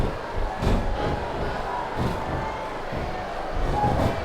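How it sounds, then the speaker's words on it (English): Wrestling arena crowd in the video game SmackDown vs. Raw 2007 cheering at a moderate level, a steady crowd murmur with a few swells, commentators talking over it. "I love hearing the crowd come alive"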